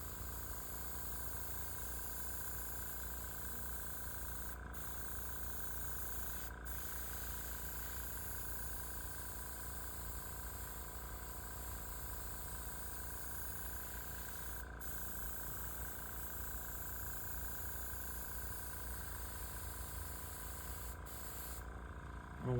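Airbrush spraying custom paint onto an automobile, a steady continuous hiss with broad airy noise running the whole time, close and even, interrupted only by a few brief clicks, with no talking.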